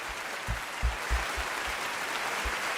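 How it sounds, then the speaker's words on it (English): Applause sound effect played on a live radio show, a soft steady wash of recorded crowd clapping with a few low thumps underneath. "Let me put these claps up."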